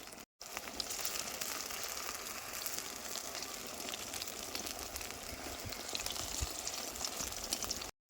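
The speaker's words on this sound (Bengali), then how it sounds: "বেগুন ভাজাগুলো কিন্তু লাল লাল করে ভাজিয়ে নিচ্ছি" Besan-coated eggplant slices fry in oil in a wok, giving a soft, continuous sizzle and crackle that stays faint and steady throughout.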